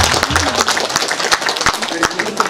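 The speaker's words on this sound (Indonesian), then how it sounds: "Tepuk tangan." An audience claps at a small business inauguration speech, with scattered, uneven claps that keep going, loud and close, over a steady crowd murmur, with some voices mixed in.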